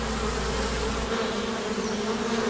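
Dense, steady buzzing of many honeybees in a hive close by, a continuous droning hum with no voices.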